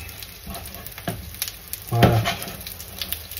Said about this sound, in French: Là, tu vois, l'huile remonte. Ça va cuire par en dessous et on va pouvoir la retourner.